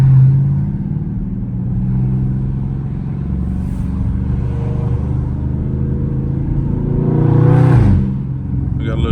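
Catless-exhaust Dodge Charger Scat Pack rumbling in traffic, a steady deep low-end drone that swells into a louder rev near the end, with voices and other passing vehicles mixed in.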